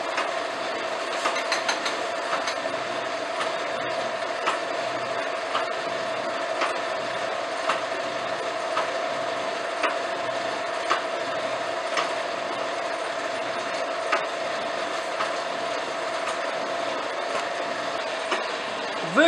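A slotting machine cuts a keyway with a steady mechanical hum and a regular ticking, clattering stroke that repeats throughout, close and continuous with no talking.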